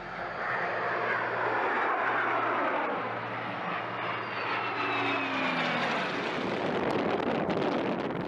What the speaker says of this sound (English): Flying old and new planes close together is a tricky